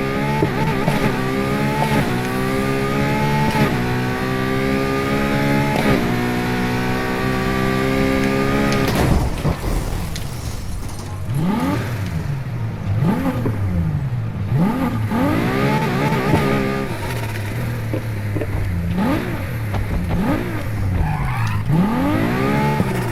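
A LaFerrari fitted with dual turbos races in Need for Speed Heat, its engine revving hard through rising gear sweeps, then shifting into choppier bursts of throttle and brief tire noise, loud and close throughout.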